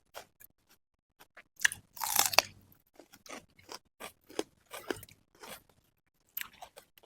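Close, crisp crunching and chewing of a lotus-stem salad with squid eggs eaten alongside sticky rice, coming in short irregular bites with quiet gaps and one louder crunchy burst, no talking.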